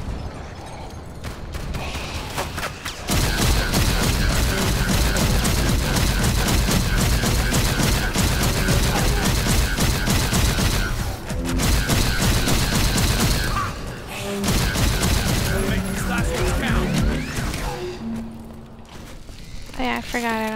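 Heavy gunfire in a Call of Duty video game, sustained bursts and rapid automatic fire with booms, loud and dense for most of the stretch, with short lulls and players talking over it.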